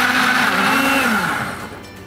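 A mixer grinder churns a falafel mixture with dill, salt, pepper and chopped garlic, a loud, close, steady motor whine that winds down and falls away near the end, with no voices.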